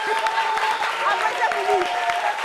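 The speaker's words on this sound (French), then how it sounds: "Applaudissez pour lui." Brief audience applause at a family meeting, a short burst of mid-distance clapping with voices and chatter mixed in.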